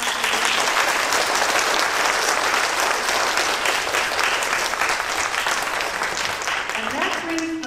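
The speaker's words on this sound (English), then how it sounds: "Let's have another round of applause." Sustained, lively applause from an audience at a violin studio benefit concert, dense hand-clapping that holds steady throughout with a few voices mixing in near the end.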